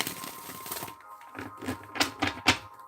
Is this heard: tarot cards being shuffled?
yes